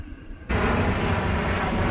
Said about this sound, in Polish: Czekamy na samolot.